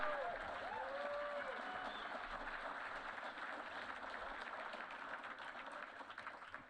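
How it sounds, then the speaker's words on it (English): Audience applause at an awards banquet, steady and moderately loud for several seconds with a faint voice or two in the crowd. "Clap it up."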